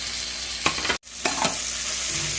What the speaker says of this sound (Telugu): అందులోనే మనం కట్ చేసుకున్న టమాటా వేసుకోవాలి